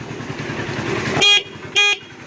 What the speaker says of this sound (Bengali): আবার হর্নটা বাজা